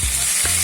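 Tomatoes added to a frying pan of garlic and onion for a kamaru dish and stirred: a brief, loud sizzle with a quick scraping stir in the middle, close up.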